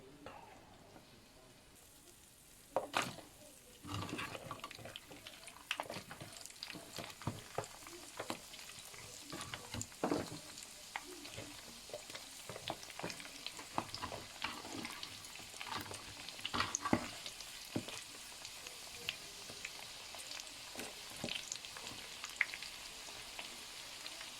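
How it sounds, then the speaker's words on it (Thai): Dried squid frying in hot oil in a wok, a faint steady sizzle broken by frequent crackles and pops and occasional stirring scrapes over about twenty-four seconds. "ปลาหมึกแห้ง ทอดปลาหมึกก่อน"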